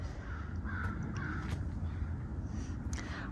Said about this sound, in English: If you hear crows cawing, pay attention to what they're doing